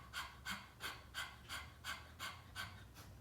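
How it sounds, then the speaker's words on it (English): Rhythmic open-mouth panting, like a puppy's quick breaths, done as a chair-yoga breathing exercise: about nine even, breathy huffs in steady succession, close and clear with no talking. "kind of like a puppy would breathe"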